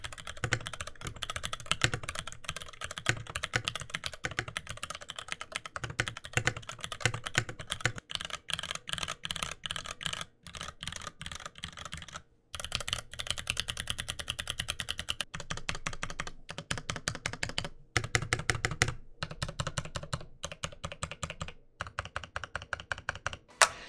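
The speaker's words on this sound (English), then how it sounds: "here's a sound test for the Ducky keyboard" Steady typing on a Ducky mechanical keyboard with Sakura keycaps, crisp clicky keystrokes in quick uneven bursts with brief pauses, close and fairly loud, no voices.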